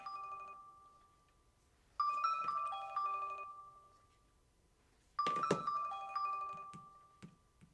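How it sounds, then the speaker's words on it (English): A phone rings with an incoming call, two bursts of a chiming electronic ringtone separated by a pause, fairly faint in an otherwise quiet room, with a light knock near the end. "I don't know who that was, and I don't answer strange phone calls."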